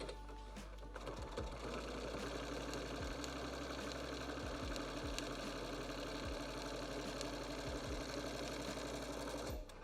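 A sewing machine quilts along marked lines on a jelly-roll strip quilt, running continuously at an even speed with a steady mechanical whir and faint repeated clicks, close and moderately quiet, no talking.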